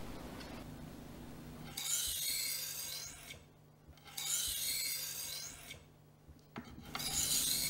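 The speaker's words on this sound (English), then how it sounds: "Resharpen the edge on the fine grit stone. 3 to 6 strokes on each side of the knife should be sufficient." A knife blade stroked across a fine grit sharpening stone, three separated bursts of gritty rasping, each lasting over a second, close and clear with quiet pauses between.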